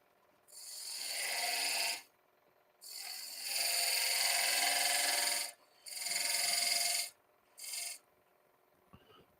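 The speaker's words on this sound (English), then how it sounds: "See how this stuff scrapes on end grain?" A skew chisel held without a handle scrapes end grain on a wood lathe while cutting a dovetail tenon, giving four rasping bursts of varying length separated by short pauses.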